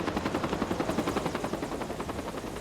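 Rapid rhythmic thudding of firefighting helicopter rotor blades over a wildfire, steady and fairly close, with a continuous pulsing beat throughout.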